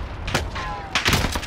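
Gunfire in a Call of Duty match on Rebirth Island, with a few short bursts of shots and quieter single reports across a brief moment. Game sounds run beneath.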